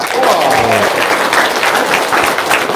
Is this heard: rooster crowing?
no